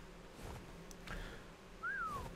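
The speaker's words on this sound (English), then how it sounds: "Oh, that's a whistle. I did not mean to press that." A player-character's whistle command in the video game ARK Primal Fear: a single short whistled tone that rises then glides downward, clear and moderately loud over faint game ambience.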